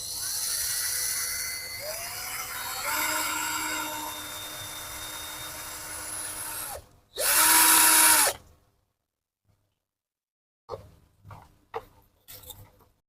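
A budget G11B1 cordless drill runs at its high-speed setting, a loud steady whine for about seven seconds that cuts out, followed by a shorter burst and then a few faint scattered clicks.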